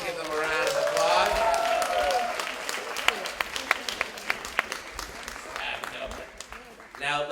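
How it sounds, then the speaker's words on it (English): An audience at a Caribbean Heritage celebration applauds honorees from Hot 97, a dense wash of clapping with sharp individual claps that thins out over several seconds, while a voice speaks over the start. "Give them a round of applause."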